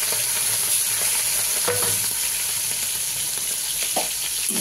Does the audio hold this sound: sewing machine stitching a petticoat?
no